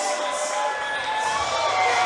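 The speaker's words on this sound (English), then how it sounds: "Listen to this crowd go crazy." MMA fight night crowd cheering as a fighter enters, a steady wash of roaring voices with a continuous bright tone beneath it.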